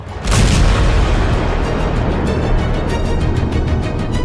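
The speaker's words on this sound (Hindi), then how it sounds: "ताबड़तोड़ बम धमाका, आसमान तक आग, काला खौफनाक धुआं।" A powerful bomb explosion booms close by, followed by a long, dense roaring rumble that stays loud for several seconds.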